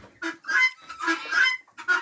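Domestic geese honk loudly and close by in a series of nasal calls, several overlapping in an irregular rhythm.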